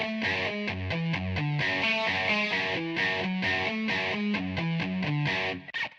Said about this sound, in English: I have here a little guitar loop.